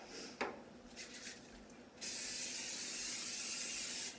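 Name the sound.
spraying cooking spray onto a baking pan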